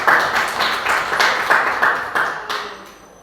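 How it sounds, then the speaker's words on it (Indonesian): A burst of group clapping from a high school class fills the classroom, steady and fairly loud, then thins out and fades toward the end. "Tepuk tangan semuanya."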